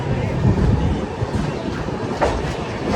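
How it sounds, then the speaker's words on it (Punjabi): A train rumbles and rattles along the tracks after leaving Amritsar station, a continuous low clatter with faint metallic squeaks, heard from inside a crowded carriage. "ਆਪਾਂ ਦੀ ਟ੍ਰੇਨ ਨਿਕਲ ਚੁੱਕੀ ਅੰਮ੍ਰਿਤਸਰ ਸਟੇਸ਼ਨ ਤੋਂ"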